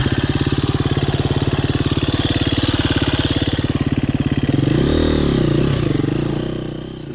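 A KTM 350 EXC-F enduro motorcycle on a new trail, its single-cylinder four-stroke engine running loud and close, first with a steady rapid thrum, then revving and shifting pitch in the final seconds.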